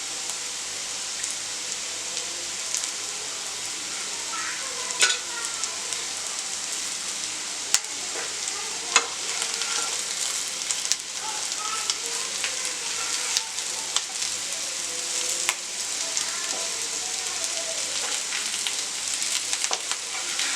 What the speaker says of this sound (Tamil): அதுக்காக தான் இந்த வெங்காயம்லாம் நான் வதக்குறேன்.